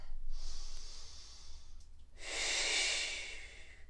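Two long, deep breaths taken during a yoga back bend, a soft airy inhale followed by a louder, fuller breath, close to the listener with no talking.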